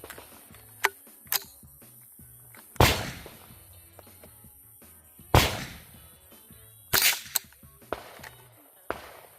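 Suppressed gunshots ring out from a Taurus TX22 .22 pistol fitted with a HUXWRX Flow 22 Ti titanium suppressor, several sharp cracks spaced irregularly, with quieter clicks and handling noise between them.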